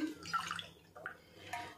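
Water measured in a cup and poured onto washed moong dal, three short, soft splashing bursts, close but quiet, with no talking.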